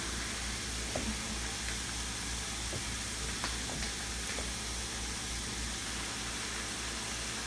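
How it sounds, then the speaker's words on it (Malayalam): Rice murukku (ari murukku, rice chakli) frying in oil over a medium flame, a steady close sizzle of bubbling oil that runs unbroken throughout, with a few faint clicks and no talking. "ആ മീഡിയം തീയിൽ വെച്ച് നിങ്ങൾ വറുത്തെടുത്താൽ മതി"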